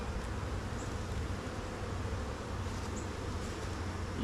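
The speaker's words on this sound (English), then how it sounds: "See some of the big bees on this frame." Honey bees buzz steadily across a hive frame during an inspection, a dense continuous drone that holds at an even level throughout with no voices.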